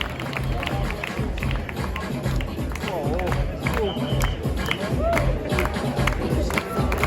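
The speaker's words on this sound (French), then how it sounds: "On applaudit les cartouristes, s'il vous plaît." A crowd at a photo fair in the Grande Halle de la Villette claps and cheers loudly and continuously for breakdancers, with voices calling out amid the steady rattle of hands.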